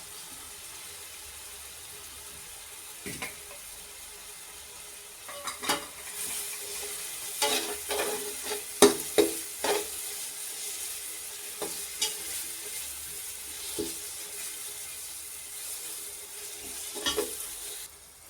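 Ginger-garlic masala for chicken biryani fries softly in a pot while a spoon stirs and scrapes it, giving a faint steady sizzle broken by scattered clinks and knocks, close by with no talk.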